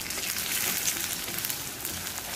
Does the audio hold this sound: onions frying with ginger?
yes